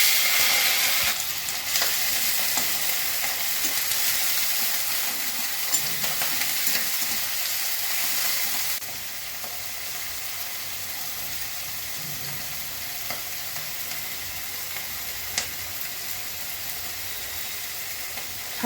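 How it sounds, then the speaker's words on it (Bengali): Prawns frying in oil with cumin and bay leaf, a loud continuous sizzling hiss with occasional stirring clicks that drops to a softer, steadier sizzle partway through. "চিংড়ি মাছ দিয়ে দিচ্ছি,"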